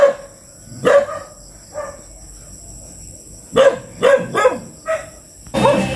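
Several dogs bark in scattered bursts, some sharp single barks and some quick doubles, fairly close and loud against a quiet background.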